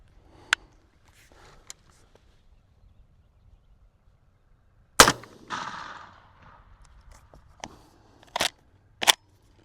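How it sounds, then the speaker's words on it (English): Three 12 gauge shotgun blasts loaded with S&B buckshot fire outdoors at a low target, widely spaced: one sharp report with a brief rumbling tail, then two more sharp shots close together near the end. "So let's do our 3 shots and let's see what we get."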